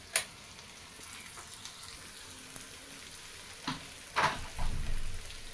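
Stuffed okra (bhindi) frying in a pan, a soft steady sizzle broken by a few sharp clatters and scrapes as pieces are turned one by one, with no talk.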